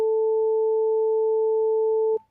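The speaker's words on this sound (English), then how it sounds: "This particular one is known as the note of A4, vibrating at a frequency of 440 times per second or 440 Hertz." A pure sine wave tone at the note A4, 440 Hz, holds steady and loud on its own for about two seconds before cutting off sharply.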